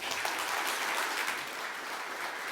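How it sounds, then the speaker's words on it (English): An audience claps in a steady round of applause, dense and continuous, fading slightly toward the end. "A big round of applause"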